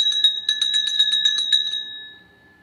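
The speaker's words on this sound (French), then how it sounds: "C'est pas une sonnette carrément." A small bell hung at a front door in place of a doorbell is shaken rapidly, giving about ten bright, tinkling strikes that ring on and fade out alone.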